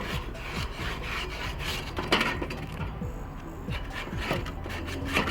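A scraper drags back and forth over a grill grate in quick repeated rasping strokes, close and moderately loud, with a steady scratchy rhythm.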